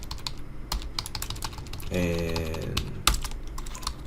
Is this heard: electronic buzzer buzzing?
no